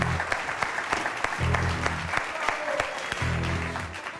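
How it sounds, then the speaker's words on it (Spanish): A studio audience on a cooking competition show claps steadily after a contestant advances, with a few sharper individual claps standing out and a low background hum beneath. "Fuerte el aplauso."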